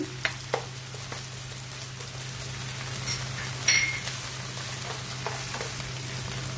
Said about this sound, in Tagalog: gigisa yung sibuyas natin. Yung ating bawang.